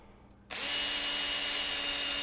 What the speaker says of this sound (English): And I'll first drill with the 7/16 drill.